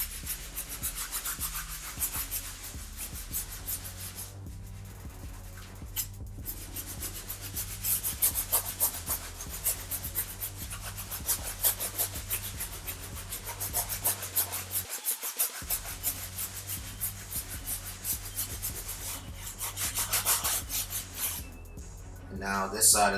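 A medium-bristle brush scrubs a Jordan 9 sneaker with lathering soap, a continuous close rasping scrub with brief pauses, steady throughout.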